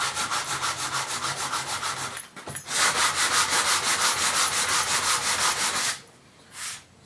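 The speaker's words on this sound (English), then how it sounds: "lightly sand the laminate to make sure there's no imperfections, little bumps" Hand sanding across a laminate countertop before fitting bevel edging, a close steady rasp in rhythmic back-and-forth strokes, briefly pausing, then continuing before a final short stroke.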